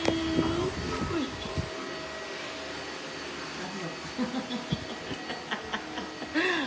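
A vacuum cleaner runs with a steady whirring hiss and hum behind a baby's playtime, while people talk and coo over it in bursts.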